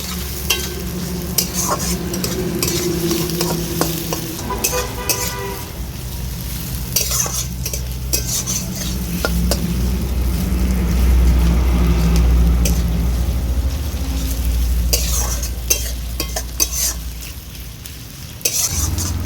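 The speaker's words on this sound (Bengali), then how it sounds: "সব কিছু আমি হালকা ভেজে নেব" Onions and chillies lightly frying in a pot for a winter vegetable chicken stew, stirred with a spatula that clatters and scrapes over a steady loud sizzle.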